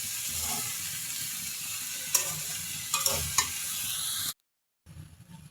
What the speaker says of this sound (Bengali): আমি এখন আলু এবং ভেন্ডির সাথে মাশরুম কুচিটাও মিশিয়ে নিচ্ছি।